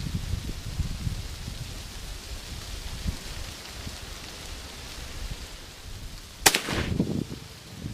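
A single sharp rifle shot fired outdoors with an 8.15x46R target load from a rifle with a single set trigger and a 4x14 scope, cracking once near the end over steady ambient noise, followed by a brief echo.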